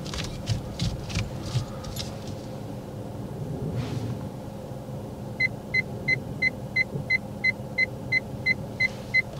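A car creeps forward during a parking manoeuvre on a driving lesson, with low engine hum and road rumble, then a steady series of regular beeps from a parking sensor or indicator near the end.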